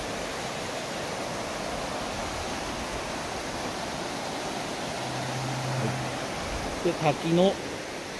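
Ryuzu Falls in Nikko, dusted with snow, gives a steady broadband roar of rushing water throughout, with a voice speaking briefly near the end.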